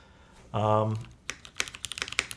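Keys on a Milan TKL mechanical keyboard clack in a quick uneven run of sharp taps, following a brief low hum at the start.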